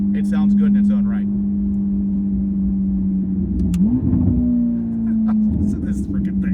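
A Corvette ZR1X engine revs under an overpass with a steady droning note that swells and climbs in pitch during a rev, then settles back, with a voice speaking over it near the start.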